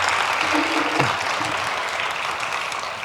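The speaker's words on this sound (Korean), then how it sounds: "이젠 박수 쳐야 되는 거예요." A church congregation applauds during a New Year's Eve worship service, a dense, even clapping that fills the room steadily from start to finish.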